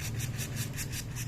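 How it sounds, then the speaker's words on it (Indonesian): A fishing rod joint is sanded by hand with sandpaper: quick, even back-and-forth rasping strokes, about five per second, run steadily and close by with no talk. "Jadi kita amplas dari yang bagian hitam"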